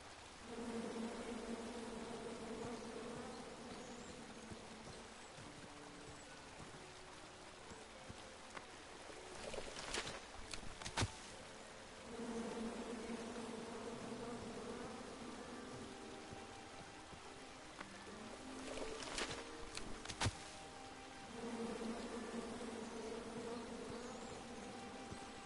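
Bees buzz in the King's Quest video game, a steady drone that swells and fades in long waves. Sharp clicks and bursts break in twice, and no one talks.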